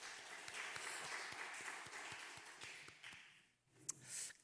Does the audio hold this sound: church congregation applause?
yes